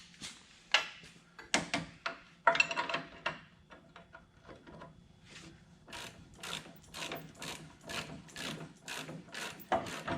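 A socket ratchet snugs up upper control arm bolts on a GMC Sierra 2500HD, giving bursts of rapid clicking strokes, close and fairly loud, with short pauses between runs.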